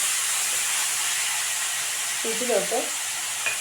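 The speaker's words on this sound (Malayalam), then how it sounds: "മുളക് പൊടി, മല്ലിപ്പൊടി, മഞ്ഞൾപ്പൊടി, അതൊന്ന് അതിൻ്റെ പച്ചമണം മാറുന്ന വരെ ഒന്ന് ഇളക്കണം." Chili, coriander and turmeric powder sizzle softly as they are stirred in a pan, a steady frying hiss with a few scraping stir strokes near the end and a brief spoken word.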